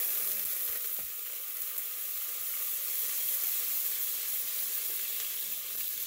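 Cut-up sausage sautéing in hot oil in a pan, giving a steady, even sizzle and crackle with no talking.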